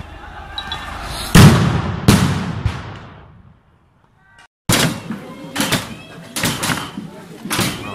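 Flashbang grenades go off at a protest at the ZAD, several sharp, loud bangs in two bursts separated by a near-silent pause, with crowd noise and voices around them.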